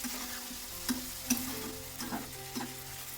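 Broad beans sautéing in a pan with a soft, steady sizzle, broken by a few light scrapes of a spoon stirring them, close and fairly quiet with no talking.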